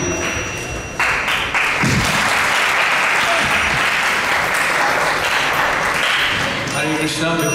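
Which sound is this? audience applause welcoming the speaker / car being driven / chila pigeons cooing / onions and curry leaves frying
audience applause welcoming the speaker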